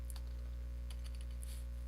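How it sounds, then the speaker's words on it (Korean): Fast, light typing on a computer keyboard while editing a lottery-number spreadsheet, a quick run of soft clicks heard alone over a steady electrical hum. "회차 뭐 그냥 타이핑 할게요."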